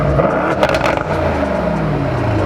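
A Mercedes-AMG E63 S strapped to a dyno in drift mode, its exhaust letting out a loud burst of crackles and pops over a steady engine drone, close and up front, with no talking.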